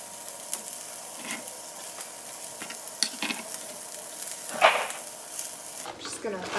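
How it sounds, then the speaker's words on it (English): Onion sautéing in a pan with plant-based beefless ground, a steady soft sizzle with occasional stirring scrapes, moderately quiet and close, with brief low voice sounds near the end. "I'm gonna cut up some onion to saute with that"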